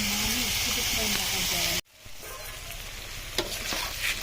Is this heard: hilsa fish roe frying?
yes